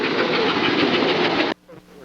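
A small model train with an Athearn flywheel drive rumbles and whirs steadily along its track, then cuts off abruptly, leaving quiet room noise.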